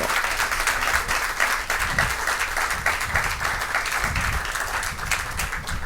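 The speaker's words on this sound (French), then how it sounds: "Je vous demande de les applaudir." Sustained applause from a school audience at a quiz-style match between two lycée teams, a dense wash of many hands clapping steadily and fairly loud for about six seconds, with a few voices faintly underneath.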